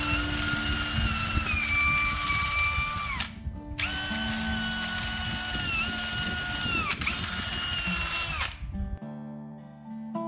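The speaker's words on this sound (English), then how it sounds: "I think that buffing wheel works a lot better." A power-driven buffing wheel grinds against a horse's hoof wall in a loud, continuous whine that dips in pitch under load, stops briefly, then runs again before cutting out.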